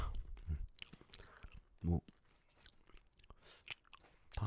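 Crunchy chewing and biting of oven-roasted chicken, with a few firm bites standing out among quieter mouth sounds, close and intimate, and a brief murmured word in the clip.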